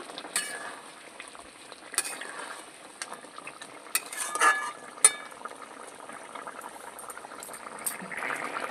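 Mutton curry with potatoes bubbles in a wok, giving a soft continuous simmering hiss broken by clinks and scrapes of a stirring utensil against the metal.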